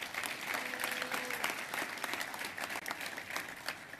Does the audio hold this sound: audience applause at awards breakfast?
yes